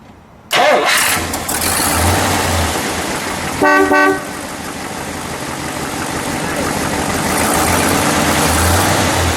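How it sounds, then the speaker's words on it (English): A 1960 Chrysler 300F engine starts up and runs with a steady rumble, interrupted by a single short beep of its dual horns partway through. "We'll ask you to beep the horn."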